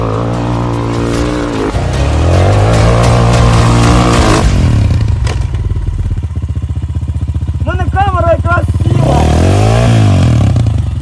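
An enduro dirt bike labours up a steep hill, its engine revving loudly and close for several seconds with rising and falling pitch, clattering and scraping along the way, while someone speaks over it.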